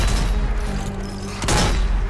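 Gunfire rattles in the zombie shooter game Zombie Army 4: Dead War, as a dense volley of shots ends in a sharp loud burst.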